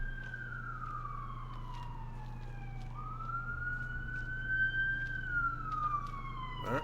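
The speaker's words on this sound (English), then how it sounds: "Some sirens behind." A siren sounds in the Fallout 4 video game, a clear wailing tone that falls, jumps back up and then slowly rises and fades again over a low steady hum, fairly faint and with no talk.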